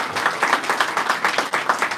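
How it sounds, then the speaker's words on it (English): Audience applause at a state economic development announcement, steady dense clapping throughout at close, even loudness with no talk over it. "A huge round of applause."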